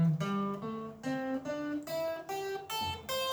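A guitar plays a minor pentatonic scale slowly, one clear plucked note at a time in an even, stepping rhythm, with each note ringing close and alone.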